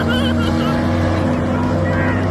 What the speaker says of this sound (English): Nothing sounds like an LS motor.